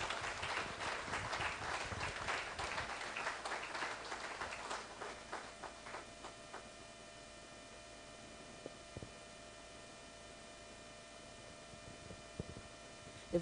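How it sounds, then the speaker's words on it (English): Audience applause at a book launch on women's leadership, a brisk burst of clapping that thins out into scattered claps and fades to a quiet room hum. "A very warm round of applause this morning for the charismatic, enigmatic Mrs. Toyin Sanni"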